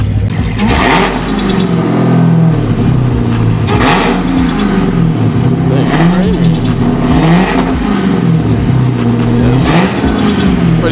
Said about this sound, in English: Go rev it. Let me hear it.